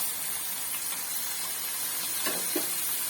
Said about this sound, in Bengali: সসটাকে একটু ভেজে নিতে হবে